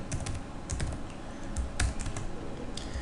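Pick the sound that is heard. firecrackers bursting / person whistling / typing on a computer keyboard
typing on a computer keyboard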